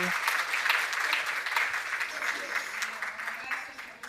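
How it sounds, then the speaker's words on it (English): A conference keynote audience applauds Luis Miguel Martínez, a steady wash of clapping at moderate volume that gradually thins and fades toward the end, with a short voice at the start. "another round of applause for Luis Miguel"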